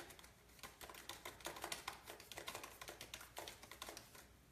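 Keyboard keys tapped late at night in a quiet house, a steady run of soft, rapid clicks close by with no voices.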